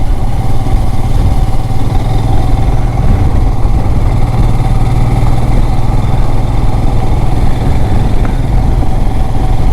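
A luggage-laden Royal Enfield Himalayan motorcycle climbs an off-road mountain track with a loud, close, unbroken engine drone and a steady throbbing exhaust note, and no voices.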